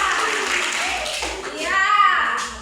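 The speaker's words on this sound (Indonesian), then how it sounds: "Tepuk tangan" Children in a classroom clap their hands together as a group, a steady wash of applause mixed with young voices calling out over it.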